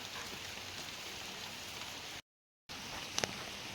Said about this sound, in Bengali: বৃষ্টি আসছে